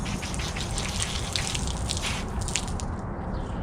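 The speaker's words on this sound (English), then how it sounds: "I'll rinse it off and see what I missed" Steady, full hiss of water spraying over an aluminum Hewescraft boat hull during a rinse, close and constant with a few splashy flickers.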